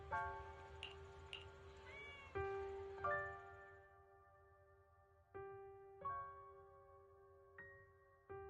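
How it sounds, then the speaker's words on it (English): A cat meows several times in a video game, short clear cries heard alone, with sharp chiming tones ringing out and fading between them. "Oh, there's a cat over there."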